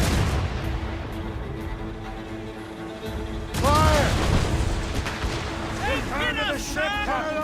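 Ship cannons fire in Assassin's Creed Rogue during a naval battle, a rumble of booming shots under constant wind and sea noise, with shouted commands from the crew throughout.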